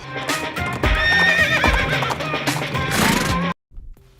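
A horse neighs loudly in a long whinnying call mixed with clip-clopping hooves, an isolated sound effect that cuts off abruptly near the end.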